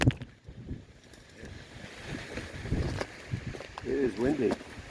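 Wind buffeting an outdoor camera microphone at a rebar-cutting site, producing low rumbling gusts that swell and fade, with voices talking over it.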